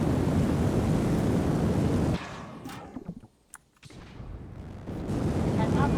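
Rocket stage separation in Kerbal Space Program 2: a loud, steady engine roar suddenly drops away into near quiet with a few scattered pops and thumps, then the roar returns.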